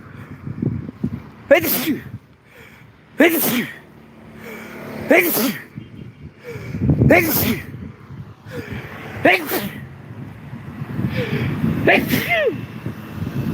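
Several sharp sneezes burst out one after another at irregular intervals, loud and close, with murmuring voices and background noise between them.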